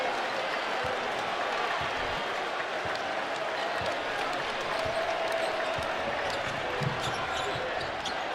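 Arena crowd at a Tennessee home basketball game in Knoxville against Florida, a steady roar of cheering and applause throughout, with a few bouncing or squeaking sounds and voices mixed into the din.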